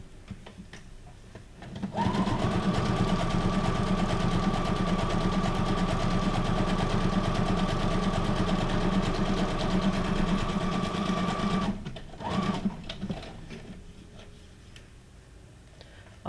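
A sewing machine stitches a journal card made from a guest check, running in one steady, loud, even whir for about ten seconds before stopping, then a brief restart and quiet handling.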